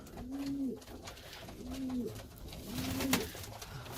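Ornamental pigeons in a winter loft give three evenly spaced, throaty coos over steady background noise.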